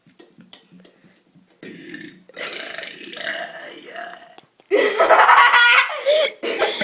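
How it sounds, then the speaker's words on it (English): A child lets out a long, loud burp close to the mic, followed by laughter and giggling, with quieter sounds before it. "Try burping."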